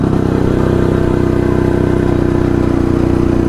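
A Jawa Yezdi D250 Classic two-stroke motorcycle runs steadily while riding, its loud, close engine giving a continuous buzzing, rapidly pulsing drone with metallic clatter and no break in tone.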